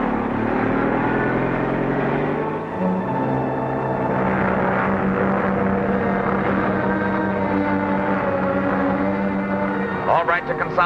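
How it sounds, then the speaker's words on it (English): A propeller airplane droning in for a forced landing in a 1942 film serial, a steady engine hum with a rising and shifting pitch, heard beneath overlapping dialogue and a brief clatter at the end. "Plane coming in. Force landing."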